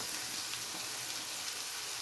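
Grated pumpkin sizzles steadily in a hot pan while a South Indian pumpkin palya cooks, a close, even hiss with no voices.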